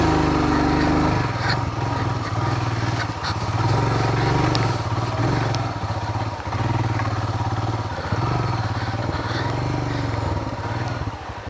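A motorcycle climbing uphill on a rainy monsoon ride to Agumbe, its engine droning loud and steady close by the whole time, with brief dips and rattling clatter as the rider works the throttle.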